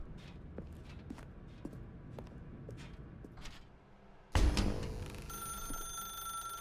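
In The Stanley Parable Ultra Deluxe video game, a telephone begins ringing abruptly after soft footsteps, a loud electronic bell tone that sustains steadily to the end.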